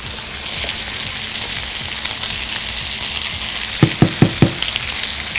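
A burger frying in butter in a pan hisses and crackles up close, with a quick run of four sharp knocks near the end.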